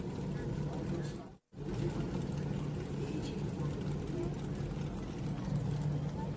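A vintage Formula Vee race car, number 66, pulls away at a racetrack, a loud continuous engine roar that briefly cuts out for a shift-like gap then resumes, with an announcer talking over it.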